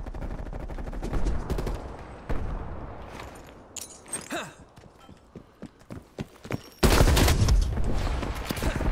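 Gunfire in the Call of Duty: Cold War video game: rapid bursts of close, loud shots in clusters, with a heavy sustained volley near the end.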